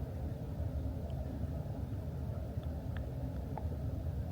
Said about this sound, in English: You can hear the traffic, can't you, out there on the M25?